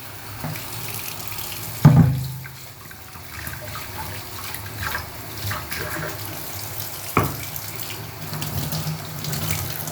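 Tap water runs steadily into a container to rinse out leftover spice masala in a home kitchen, a continuous close splashing flow with a couple of louder clunks near the start and middle.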